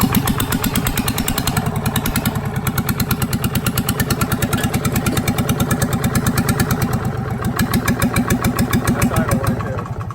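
A waterlogged, rusted Yanmar boat engine that sat for years with its head off runs steadily and loudly up close, its rapid rhythmic chugging pulsing without a break.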